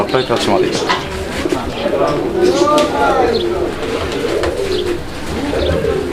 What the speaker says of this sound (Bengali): এখানে আরও একজোড়া কবুতরের কালেকশন রয়েছে এটা হচ্ছে একটা রেসিং পিজন